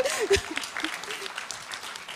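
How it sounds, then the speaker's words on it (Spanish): Audience applause at a panel session on national prevention strategies, a short spell of moderate clapping with a voice briefly audible at the start. "se aplauda, se vale aplaudir"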